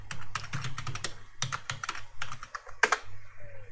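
Keys clatter on a computer keyboard as a command is typed during a Flutter SDK setup on Linux Ubuntu: bursts of close, crisp clicks in irregular rhythm with short pauses, then a louder final keystroke like the Enter key.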